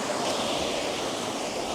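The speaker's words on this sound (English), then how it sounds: "the bottom third of this scene will be this waves crashing in with white foam" Ocean waves crash in with white foam on a cloudy day, a brief, steady wash of broadband surf noise, with wind across the microphone.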